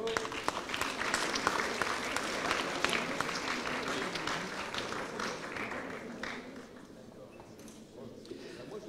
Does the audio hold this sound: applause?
yes